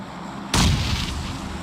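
A sudden heavy boom from a bombing strike in the mobile battle game PUBG Mobile, erupting loudly after near silence and rumbling on as a dense, sustained roar.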